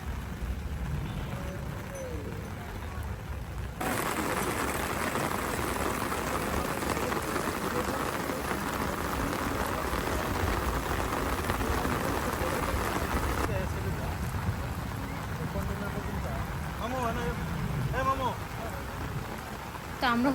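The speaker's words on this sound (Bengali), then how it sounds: "বাট বৃষ্টি এখনও হচ্ছে" Heavy rain pours steadily over an open cattle and buffalo market in Ashuganj, a dense, loud hiss lasting throughout, with voices faintly audible beneath it.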